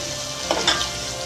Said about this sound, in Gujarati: થોડો વઘારને પાકવા દેવાનો